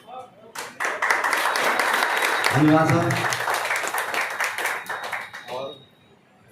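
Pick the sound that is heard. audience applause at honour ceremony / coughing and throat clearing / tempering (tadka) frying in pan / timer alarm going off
audience applause at honour ceremony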